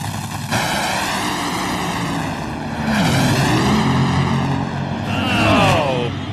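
Engine roar from cars at an NHRA drag racing event, continuous and loud with rising and sweeping engine tones and a pass that swells near the end, heard under a crowd-like wash.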